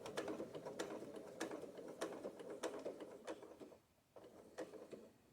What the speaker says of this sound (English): now I'm going to do the top stitching